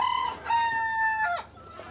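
Caged hens clucking and squawking close by in a short, agitated burst of calls that fades near the end, with no talk.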